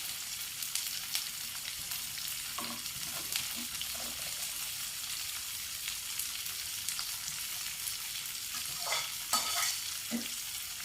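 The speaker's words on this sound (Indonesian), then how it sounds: "Kalau sudah mendidih, dagingnya kita masukkan dulu." Beef going into a pot of boiling broth while cooking rawon, heard as a steady simmering bubble and sizzle with a few brief stirring clinks and splashes close by, no talking.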